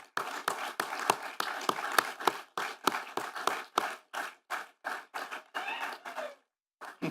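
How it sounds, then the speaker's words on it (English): Audience at an evening event applauding sponsors, a steady run of distinct claps that stops near the end. "I want you two to stand and take a huge round of applause, please, for sponsoring this"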